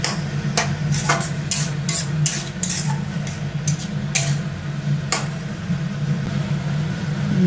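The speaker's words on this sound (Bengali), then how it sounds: "হলুদ গুঁড়ো দিয়ে দিয়েছি, ভালো করে নেড়ে নিতে হবে।" Spinach being stirred with turmeric powder in a pan over high flame, a low steady hum under a series of sharp, irregular spatula clicks and scrapes against the pan, close by.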